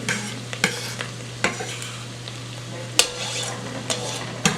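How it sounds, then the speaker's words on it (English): Onions and garlic stirred in a pot for collard greens, with a few sharp scraping clacks of a utensil against the pot over a steady low hum and a faint background sizzle. "I give that a quick stir"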